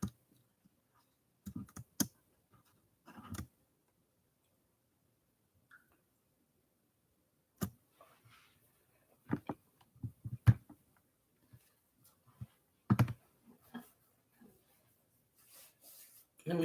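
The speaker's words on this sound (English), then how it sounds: "Let me type this in first." Scattered bursts of computer keyboard typing and clicks, short clusters of keystrokes separated by long quiet gaps, close and fairly soft.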